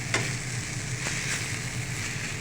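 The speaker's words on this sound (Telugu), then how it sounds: "ఉప్పు నూనె ఉడకబెట్టకుండా నేను ఇప్పుడు చాలా మునగా వండుతున్నా" Drumstick (moringa) pods cook in salt and oil without boiling, giving a continuous close frying sizzle with a few faint stirring clicks and no talking.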